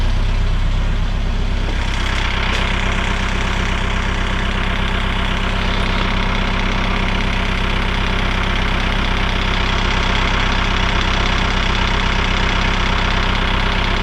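A tractor engine runs at a steady, loud idle-like chug on wet ground while carrying a Sibley camelback drill press on its hydraulics, with an even knocking rhythm throughout and no talking.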